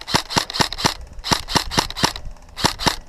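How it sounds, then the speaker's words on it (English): Airsoft rifle fired during an outdoor game round, a rapid series of about ten sharp, close snapping shots in uneven bursts, with no voices between them. "I'll try to get him with the rifle."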